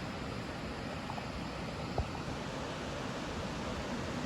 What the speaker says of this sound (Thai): นี่น้ำตกมันก็ไหลลงมา ในจุดนี้ช่วงนี้เนาะ